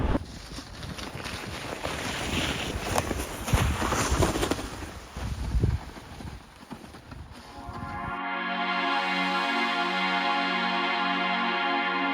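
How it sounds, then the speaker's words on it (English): A pulk sled loaded with 40-45 kg scrapes over snow behind a fatbike in Sweden, a steady rough hiss under gusting wind noise for the first eight seconds, then a cleaner tonal drone takes over. "You can hear the pulk scraping through Narnia today."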